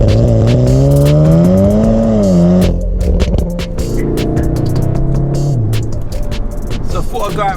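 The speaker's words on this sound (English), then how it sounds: "So now we'll jump into Golf R and see how well that gets on." A stage 2 tuned Volkswagen Golf R pulls hard, its loud engine note climbing steadily in pitch, then dropping at a gear change and climbing again under a steady road roar.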